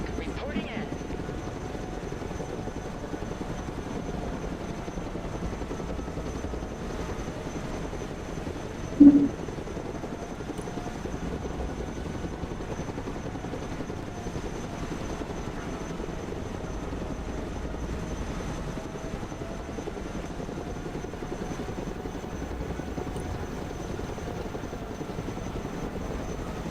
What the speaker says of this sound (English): Chinook, reporting in.